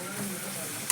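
Prawns fry with onions in a pan, giving a steady hiss of sizzling oil that stays level throughout, with a small clink right at the end.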